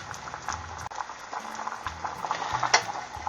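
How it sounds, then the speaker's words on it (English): Potatoes boil in a pot of water, a steady close bubbling and popping with soft liquid gurgles and no voices. "Now these don't have to boil for very long, but you do want them to be fork tender."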